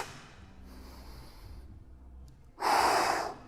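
Proper breathing during an exercise, with a soft, drawn-out breath through the nose followed by a louder, forceful rushing exhale near the end, close and alone.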